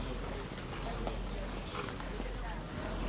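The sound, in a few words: horse hooves clip-clopping at Saratoga backstretch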